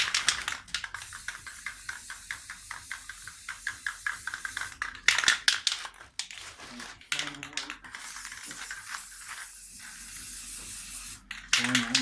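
PlastiDip sprays onto Polo GTI rims in repeated short hissing bursts, close by, with brief pauses between passes and a longer continuous spray near the end.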